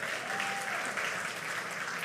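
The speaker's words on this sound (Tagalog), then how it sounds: "Wala bang palakpak kay Lord dyan?" Church congregation applauding for the Lord during a sermon, a steady wash of clapping from many hands filling the room for about two seconds.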